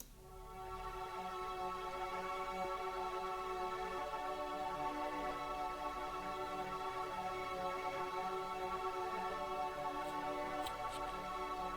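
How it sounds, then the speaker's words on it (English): A sustained synth pad from the Astra preset in FL Studio holds a rich, steady chord with a smooth, even tone throughout, alone and without effects. "on Astra I chose this preset, it's a really nice pad"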